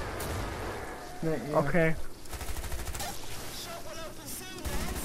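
Grenade launcher fire and explosions from the video game Killing Floor 2, a burst of blasts and gunfire cracks mixed with game sound, with brief talk from players over it.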